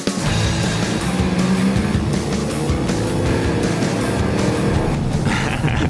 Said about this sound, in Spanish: Oí las ruedas girando.